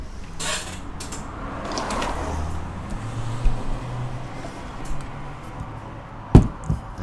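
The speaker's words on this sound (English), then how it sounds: "you're really picking up the outside traffic noise now" Road traffic noise from outside drifts in as a steady low rumble, with faint mechanical creaks and a sharp knock near the end, and no voices present.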